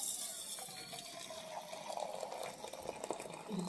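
Hot water pours from a tap or kettle into a bowl of salted wheat flour for dough, a steady close liquid stream that rises gently in pitch as the vessel fills, alone without talk.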